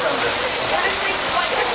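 Steady, dense hiss of rain falling on a surface, continuous and fairly loud throughout.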